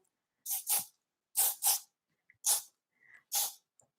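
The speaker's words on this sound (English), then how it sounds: "Put a bit of hairspray on there." Hairspray misted over a sleek bun in short, close hissing puffs, two quick pairs followed by two single bursts, with near silence between them.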